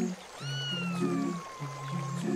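A kitten stranded on a rock in a river meows in a long wavering cry, close and clear over a faint rushing background.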